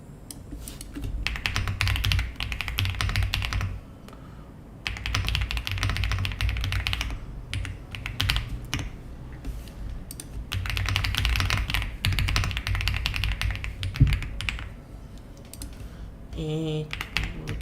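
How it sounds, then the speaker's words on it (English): A computer keyboard clatters in fast, dense bursts of typing separated by short pauses, close and crisp, with a few brief gaps of quieter tapping. "apparently my keyboard sounds really nice."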